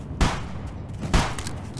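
Two loud video game gunshots crack about a second apart, each a sharp booming hit with a short tail, fired while shooting at bandits.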